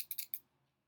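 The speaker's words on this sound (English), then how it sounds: "You're going to get your squiggly scissors" Squiggly craft scissors snip a damp paper plate in three or four quick, sharp cuts close by, then fall quiet.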